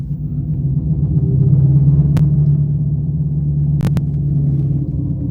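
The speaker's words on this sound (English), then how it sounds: "that noise that you're hearing is actually a Hemi V8. It's actually a Hellcat engine at idle without the supercharger whine" Supercharged Dodge Hellcat Hemi V8 idling in drag mode, a deep, loud, steady rumble close by with a strong low throb and a couple of brief sharp clicks over it.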